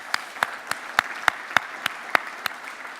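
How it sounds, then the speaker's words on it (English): A single pair of hands claps slowly and evenly about ten times at a closing event session, each sharp clap distinct against a quiet room, without any talking. "So big round of applause for those guys."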